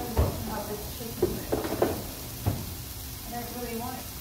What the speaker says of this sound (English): I'm frying chicken, but I don't want to eat it with anything